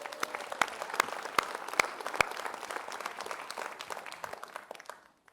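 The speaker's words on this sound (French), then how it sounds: "Vous pouvez les applaudir." An audience at a French New Year's wishes ceremony in 2024 applauds steadily, with sharp individual claps standing out from the sustained clapping before it fades to silence at the end.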